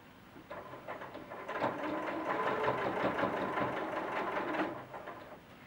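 A sewing machine stitches a seam on a handmade cloth doll, running at a steady rapid rhythmic whir for several seconds before stopping, close and moderately quiet.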